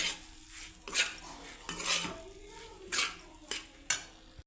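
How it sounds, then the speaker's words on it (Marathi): Pasta being stirred in a pan while masala pasta is cooked, with a series of scraping, clattering utensil strokes against cookware recurring about once a second, at moderate level and with no talking. "त्याच्यामध्ये आपण पास्ता घालूया. पास्ता घातल्यानंतर मिक्स करून घेऊ चांगलं."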